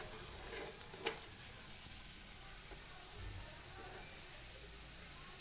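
Masala cooks down in a pan, heard as a faint, steady frying hiss with a couple of soft stir scrapes, quiet and fairly distant.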